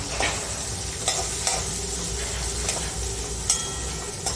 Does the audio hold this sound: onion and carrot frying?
yes